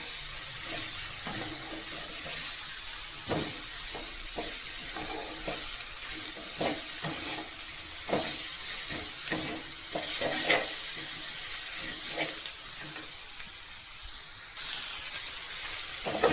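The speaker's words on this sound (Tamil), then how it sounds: "இதையும் சேர்த்து நல்லா கலந்து விட்டுக்கலாம்" Mint, coriander and curry leaves are stirred into a radish chutney in a pan, a soft continuous sizzle under repeated spatula strokes and clacks over about sixteen seconds, with no speech.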